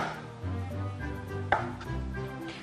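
A kitchen knife chops pan-fried sweet potato on a board in a few close, distinct strikes, one sharper cut standing out, over a steady low background hum, with no talk.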